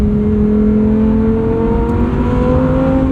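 A 2023 Lamborghini Huracan Tecnica's engine holds a loud, steady high-revving drone from inside the cabin, its pitch climbing gradually over a few seconds.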